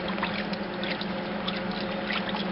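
Cashmere fleece is moved up and down in warm water, giving a steady, close sloshing and trickling with small splashes throughout.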